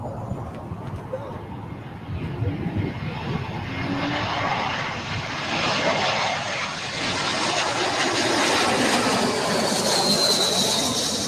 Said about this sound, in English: We got the JetBlue A320.